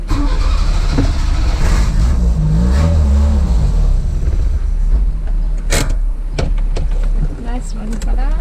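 Engine of a 1981 right-hand-drive Honda Accord with throttle trouble, revving and pulling while driving, loud and rough at close range, with someone talking and clunks near the end.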